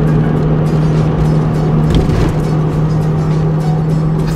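A car's engine and transmission run loud and steady at idle, a continuous droning hum with a constant low tone, close and unbroken, with no talk over it.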